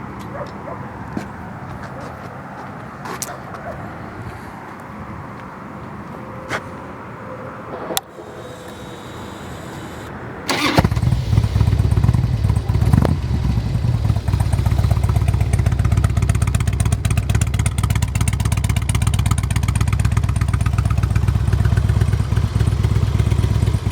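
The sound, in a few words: Harley-Davidson Road King Classic motorcycle engine starting and idling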